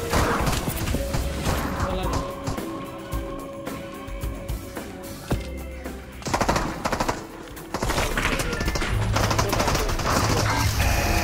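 Heavy video-game firefight with sustained machine-gun bursts and scattered single shots, loud throughout, briefly dropping before roaring back, with voices talking underneath.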